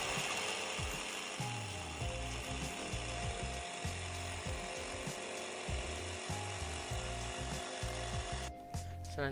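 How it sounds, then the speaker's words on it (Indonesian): A jigsaw buzzes in rapid, stuttering bursts as it cuts through wood, steady and mechanical, with a brief pause near the end. "Dengan alat bantuan alat gergaji dan mesin jigsaw, kami melakukan pemotongan dari hasil pengukuran"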